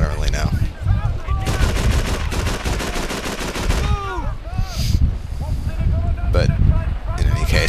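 Heavy bursts of machine-gun fire from the Call of Duty 3 video game rattle loudly in rapid volleys, mixed with battlefield noise and a voice talking over the shooting.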